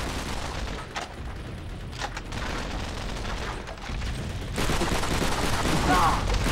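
Machine gun fire from an MG nest in Call of Duty: Finest Hour (PS2) crackles in dense bursts across a loud wartime battlefield, growing heavier toward the end, mixed with shouted soldier voices.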